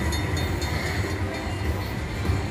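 The train sound effect on a Luxury Line slot machine plays as a steady, loud rumble of rolling rail wagons with faint clattering, continuous throughout without talk.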